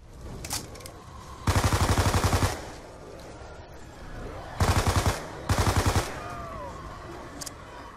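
Bursts of rapid automatic gunfire aimed at zombies in a video game, three loud rattling volleys of about a second each, separated by quieter gaps, up close with little else around.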